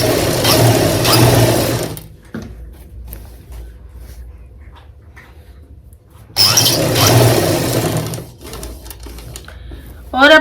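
Close, loud sewing machine whirring in two sustained runs while stitching a pocket onto capri trousers, with a quieter gap of handling noise between the bursts.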